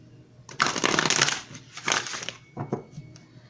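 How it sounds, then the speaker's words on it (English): Oracle cards are shuffled and one is pulled from the deck, giving a few close, papery riffling and sliding bursts separated by short pauses. "So let's go ahead and pull the emotion card"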